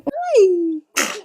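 A child's sneeze rings out once, close and fairly loud, with a high rising-then-falling voiced tone followed by a short breathy burst of air.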